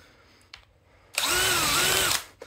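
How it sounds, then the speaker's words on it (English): A specialized self-centering drill bit with a retractable sleeve whirs steadily for about a second after a couple of faint clicks, loud and close, then spins down. "this specialized tool, trick of the trade, with the retractable drill bit, so it self-aligns in the holes and just perfectly centers"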